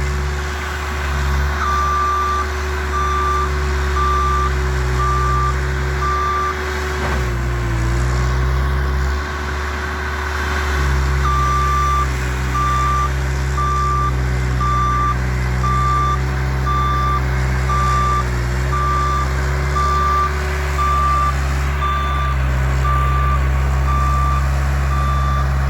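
A Bobcat loader works on a recreation ground in Saint Martin, its diesel engine droning loudly and steadily while the reversing alarm beeps in a regular repeating pattern, close by and continuous.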